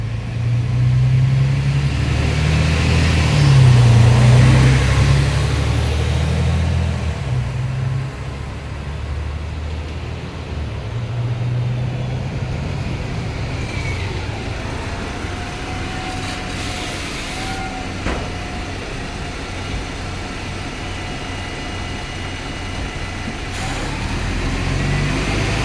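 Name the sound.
city bus driving, heard from on board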